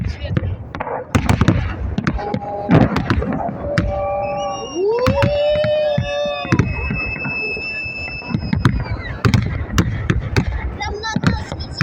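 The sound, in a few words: fireworks salute over Vorobyovy Gory, Moscow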